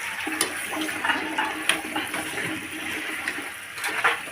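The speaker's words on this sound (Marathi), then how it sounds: "थोडं गरम पाणी केलेलं आहे ते मी याच्यामध्ये टाकते" Hot water pours steadily into a pot of chicken biryani with splashy, gurgling texture and a few clinks, continuous for several seconds with no voices.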